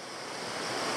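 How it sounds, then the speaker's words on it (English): V C Falls in Tasmania, a small waterfall with a three-metre drop and sloping cascade, gives a steady broadband rushing wash that swells slightly louder over one second, with no voices. "There's like a sloping cascade just there."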